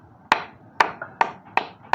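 A hammer strikes a nail into wood during carpentry, five sharp evenly spaced blows ringing close and loud, with no speech.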